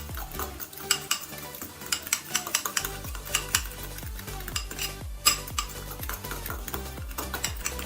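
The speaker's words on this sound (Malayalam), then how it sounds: "അതിനുശേഷം നമുക്കിത് നന്നായിട്ടൊന്ന് മിക്സ് ചെയ്തെടുക്കണം." Raw fish pieces mixed by hand with salt, pepper and lemon juice in a bowl, with a run of close, wet squelching and clinking strokes in an irregular rhythm.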